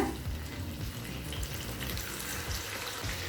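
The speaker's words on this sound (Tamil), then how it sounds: "இப்போ கொஞ்சமாக தண்ணி சேர்த்துக்கலாங்க" Water splashes and trickles into a hot pan of frying potatoes, with a steady sizzling hiss underneath, fairly close and continuous.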